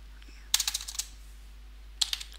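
Quick bursts of computer keyboard typing, two short clusters of crisp clicks separated by a pause, close and fairly quiet over a steady low hum, no talk.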